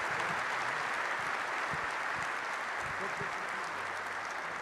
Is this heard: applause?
yes